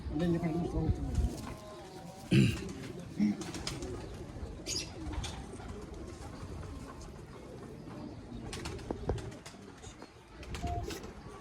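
Teddy breed pigeons coo softly at a home loft, low throaty calls repeating intermittently beneath someone talking close by, with faint chirps and background noise.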